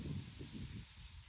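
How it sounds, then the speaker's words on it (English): Gusts of wind buffet the microphone with low rumbling rushes that ease off toward the end, no voices present. "So apologies for the wind straight away"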